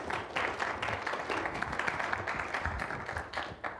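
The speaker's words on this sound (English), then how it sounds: "All right, round of applause for the Sega Genesis." At a NOTACON 6 talk on programming the Sega Genesis, an audience applauds in a sustained burst of dense clapping. The clapping is fairly soft and even for about four seconds, with no speech over it.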